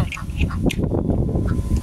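Ducks at a garden duck pond quack close by, several short nasal calls in quick succession over a soft outdoor background, with no voices.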